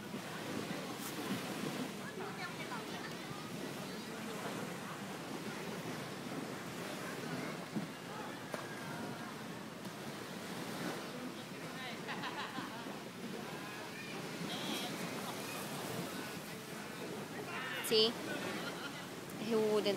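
Waves wash onto the beach at Boracay in a steady, rolling surf roar with wind buffeting the microphone, while voices talk faintly over it.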